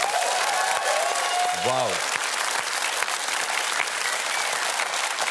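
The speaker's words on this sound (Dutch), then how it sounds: "Geef ze nog een ongelooflijk applaus, dames en heren." A studio audience applauds on a Dutch television show, a dense, steady wash of clapping that fills the whole stretch, with a voice briefly exclaiming early on over it.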